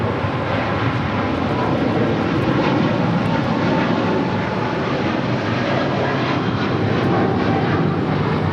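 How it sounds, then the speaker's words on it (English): A Cathay Pacific Boeing 777-300ER jet thunders down runway 25 Right at LAX on its takeoff roll, a loud, sustained broadband engine roar that holds steady throughout, with no talking. "Cathay Pacific Flight 885 heading back to Hong Kong in the 777-300ER, now rolling down 25 right."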